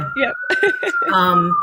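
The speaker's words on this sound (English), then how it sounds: "I don't know if you can hear the New York siren in the background" A steady, high emergency vehicle siren tone holds throughout on a city street in New York's Upper West Side, with a person speaking briefly over it.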